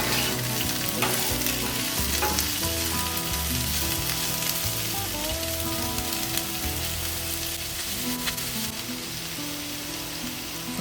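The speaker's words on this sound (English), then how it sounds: "Then we're going to add half a chopped onion. Mix this in, cooking." Home fries and half a chopped onion fry in a cast iron pan, a continuous dense sizzle and crackle with occasional stirring scrapes, steady and close throughout.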